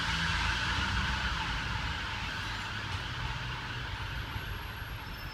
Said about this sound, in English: It's an NHS emergency ambulance.